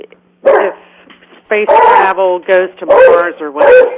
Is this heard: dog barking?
yes